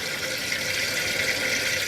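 Water flushes out of the water system of a Toyota Troopy, heard as a loud, close, steady rushing flow with no talk.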